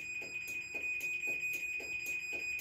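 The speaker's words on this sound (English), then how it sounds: "There's the closing door alert." A garage door opener's closing alert beeps in a steady repeating pattern, roughly every half second, as a sustained high tone rings continuously underneath; a mechanical hum runs beneath the beeps, and nobody speaks.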